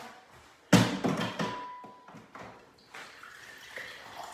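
Water running from a tap into a bottle being refilled, a sudden splashy gush starting with thunks and bubbling, then a softer steady flow, close and alone.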